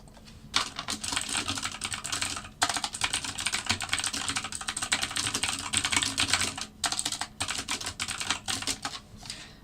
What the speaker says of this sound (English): Oh, look, I'm fake typing again.